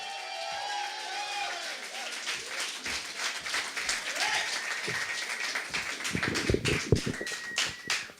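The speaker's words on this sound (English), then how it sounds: "Please, applaud to the stage, Kim Goldberg, ladies and gentlemen." Audience applause at a beer slam reading night as a performer comes to the stage, broken claps thickening into a fuller ovation toward the end, with crowd murmur and some low thumps underneath.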